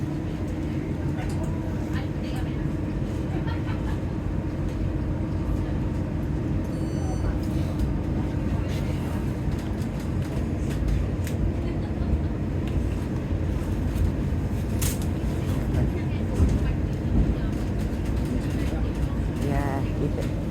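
Tram interior on the Birmingham line between Grand Central and Bull Street: a steady low rumble of motors and rolling wheels runs throughout, with voices talking over it and occasional brief squeals and clunks.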